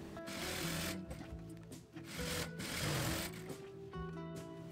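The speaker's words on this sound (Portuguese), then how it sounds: "Eu vou colocar direito com direito e vou costurar as laterais e o fundo, uma costura reta com a distância de um pé de máquina." A sewing machine stitching the side and bottom seams of a fabric bag in straight lines, quiet steady mechanical whirring in runs with brief pauses between them, no talk.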